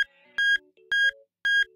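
Three electronic beeps from an animated cartoon, in a steady pattern, each a loud tonal chirp with a short rest between, close by.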